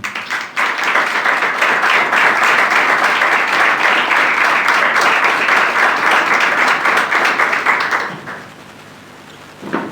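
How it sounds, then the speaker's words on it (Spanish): Church congregation applauding the Lord, dense sustained clapping filling the room for about eight seconds before fading out, with a brief burst returning at the end. "Vamos a darle un aplauso al Señor"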